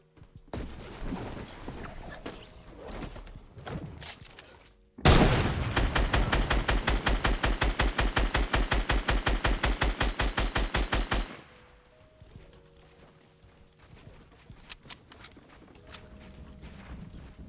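Gunfire in the Fortnite Battle Royale video game: a loud, sustained burst of rapid automatic shots lasting about six seconds, set between quieter scattered game sounds.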